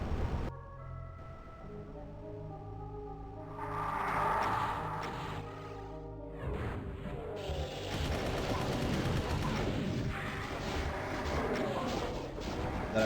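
A rocket launcher fires in the video game The Lost Magic, with explosive booms and crashes at about 4 seconds and again from 6 seconds onward, set against layered game music and effects.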